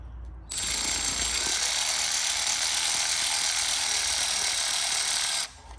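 Screws are tightened down on a Briggs and Stratton engine plate during a primer-start conversion. A loud, steady mechanical whirring starts abruptly, runs for about five seconds and cuts off sharply, with no talking.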